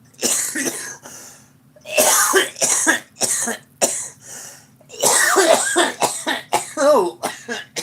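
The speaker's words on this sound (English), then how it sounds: "you don't get off till you cough" Several harsh coughs and throat clearing from one person during a live stream, loud and close, in irregular bursts separated by short pauses.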